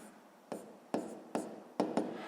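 A pen or pencil writes a sixth-grade math solution on paper, five short scratching strokes in an uneven rhythm, close and clear with no voices.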